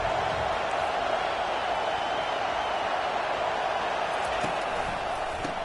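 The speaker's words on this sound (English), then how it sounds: "Listen to the crowd energy here in the early going." A dense, steady wash of stadium crowd noise at a Miami at Alabama football game, loud and unbroken throughout with faint thuds scattered underneath.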